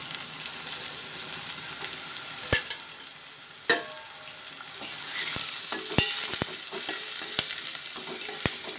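Green chillies and curry leaves fry in hot oil, a bright crackling sizzle that swells partway through, punctuated by sharp taps and clinks of a utensil against the pan.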